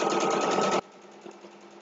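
Sewing machine stitching a two-fabric potholder, running steadily and loudly up close for under a second before stopping abruptly, leaving faint mechanical clicks.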